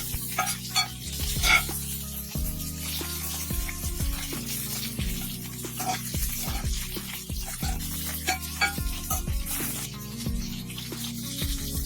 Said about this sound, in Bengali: ফুলকপিটাকে প্রথমে হালকা করে একটু ভেজে নেব